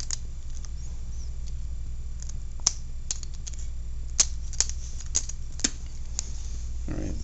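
A carp fishing hair rig has the tag end of its line snipped off, heard as a few sharp, close clicks and snips scattered over light handling noise in a quiet setting.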